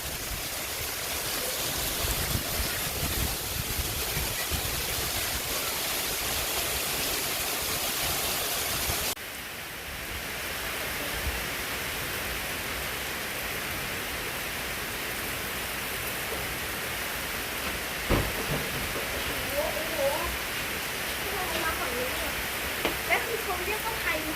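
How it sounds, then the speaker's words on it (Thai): Heavy rain pours down steadily in a dense, continuous hiss, loud and close throughout, with a brief dip in level partway through and occasional louder splashes near the end. "นอนฟังเสียงฝนโอ้ย ใหญ่นะครับ"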